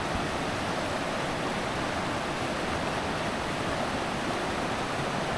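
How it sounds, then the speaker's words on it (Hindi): Dudhiya river near Siliguri flowing steadily, a loud, even rushing of water with no pauses or other sounds on top. "इस प्रकृति के बीच में इस नदी की आवाज़ को सुनिए"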